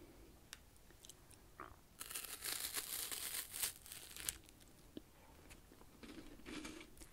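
A chocolate wafer biscuit is crunched close to the mic: a dense burst of crisp, crackling bites lasts a couple of seconds, followed by a few softer crunches and chewing sounds in a quiet room.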